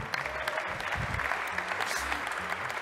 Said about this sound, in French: je pense qu'il mérite d'être applaudi